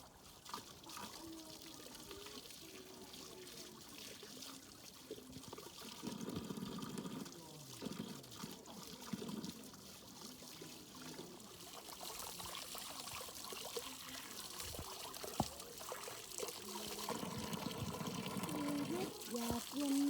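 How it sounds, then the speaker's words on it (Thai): Water washes soil off freshly dug cassava roots outdoors, a continuous trickling and splashing pour that swells toward the end, with voices talking over it at times. "เราล้างออกที่ดินที่มันติดอยู่ใน"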